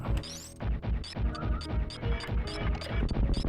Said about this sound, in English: I don't know why these guys sound like glass shattering when you shoot them.